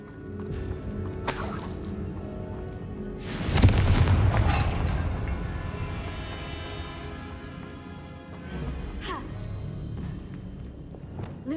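An explosive Confringo spell goes off in Hogwarts Legacy, a single loud, deep boom with a rumbling tail that rises over steady game ambience and slowly fades over several seconds.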